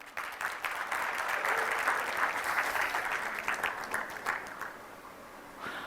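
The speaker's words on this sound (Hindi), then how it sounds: "ताली बजा सकते हो?" An audience breaks into sustained clapping at a talk, steady and full for several seconds, then thinning out and fading toward the end.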